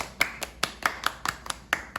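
A group claps in a synchronized rhythmic 'success clap' pattern at a Bible doctrine school camp, about ten sharp, evenly spaced claps with a quicker burst near the end, fairly close and clear.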